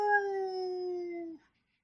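A single drawn-out dog howl as a sound effect, a steady tonal wail that holds for over a second and then cuts off abruptly, leaving silence.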